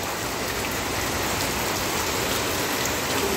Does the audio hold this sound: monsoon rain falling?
yes